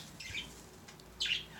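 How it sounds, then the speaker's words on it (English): Pet birds indoors let out two sharp, shrill squawks about a second apart, loud and close in a quiet room with no voices. "Birds are loud."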